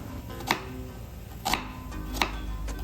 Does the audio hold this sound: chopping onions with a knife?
yes